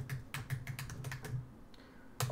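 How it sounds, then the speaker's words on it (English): Quick, light keystrokes on a computer keyboard, a dozen or so taps in an uneven rhythm, close and quiet with no voices. "I'll just type it in here."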